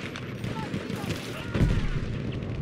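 Battlefield V gunfire sprays through a wall in a rapid, dense burst of close shots. A voice speaks at the same time.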